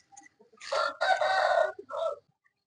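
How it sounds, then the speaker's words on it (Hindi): A chicken in a cage lets out a loud, close crow in a few drawn-out bursts, preceded by faint clucks, with no talking. "अभी इसके अंदर जो है ना एक चूजा है"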